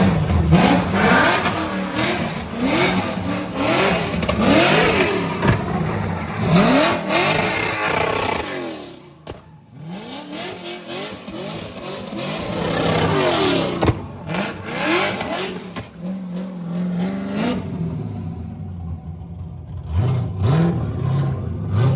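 A Corvette drift car's engine at a track, revving hard and loud with rising and falling whines, a short drop to quiet near the middle, then more aggressive revs and surges with no talk.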